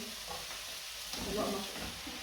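Onions and mushrooms cooking in a pan, a soft continuous sizzle with a swell of stirring near the middle, fairly faint and close, no voices.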